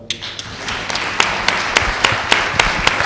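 Sharp, evenly spaced claps ring out in a steady rhythm, about three per second, loud and close in an otherwise quiet room.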